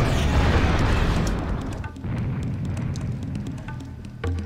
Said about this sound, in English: I just had to use the Serious Bomb right there